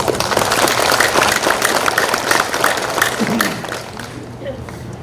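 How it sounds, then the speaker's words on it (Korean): A crowd of residents claps steadily for about four seconds at a township community assembly and multicultural gathering in Korea, then the applause thins and fades out. "우리 김재용 문화복지위원장님께도 박수 한번 부탁드리겠습니다"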